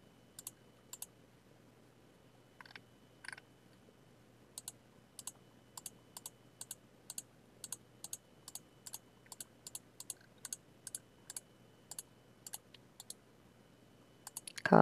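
Computer keyboard keys pressed to copy and paste, a run of sharp, isolated clicks and taps spaced irregularly over a quiet background, close and distinct, with no voices.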